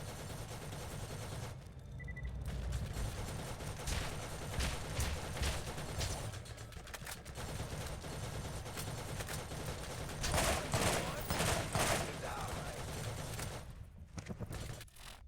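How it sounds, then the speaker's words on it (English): A turret lays down suppressive fire in the video game Borderlands, sustained rapid gunfire crackling through the whole stretch with a few brief pauses and heavier volleys, steady and mid-distance. "This turret just providing suppressive fire is really, like, driving me up a wall."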